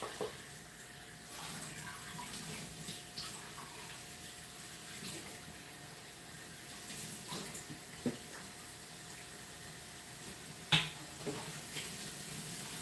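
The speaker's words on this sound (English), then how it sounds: "Washing this thing off." Tap water running steadily in a kitchen sink while a utensil is washed, a soft continuous hiss with occasional faint clinks and splashes.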